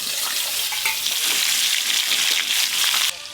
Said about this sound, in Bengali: বাকি মাছগুলো এবার ভেজে নেব।